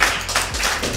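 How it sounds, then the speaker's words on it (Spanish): Applause for a contestant during a Spanish-language online awards show, a short burst of close, steady clapping that fills the whole second. "¡Un aplauso para Brianda!"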